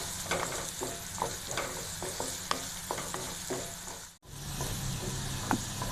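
Chopped onion and green chilli sauté in a hot oiled pan, a steady close sizzle broken by repeated scraping stirs of a spatula, with a brief dip near the end before the frying hiss resumes.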